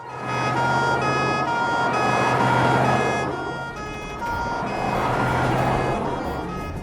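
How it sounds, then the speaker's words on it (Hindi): A wailing ambulance siren rises and falls loudly and steadily, close by on a street, sounding alone without talk. "एम्बुलेंस आई है"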